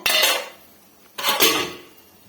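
A metal lid clatters shut on a pot of tomato sambar, two sharp close clanks in quick succession with ringing decays and no talk.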